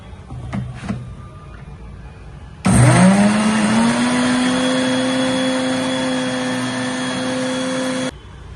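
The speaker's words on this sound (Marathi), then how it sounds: "आता आपण याला मिक्सर मध्ये फिरवून घेणार।" A mixer grinder runs a curry leaves chutney, kicking in abruptly with a rising whine that settles into a steady loud motor drone for about five seconds before cutting off, after some faint handling sounds.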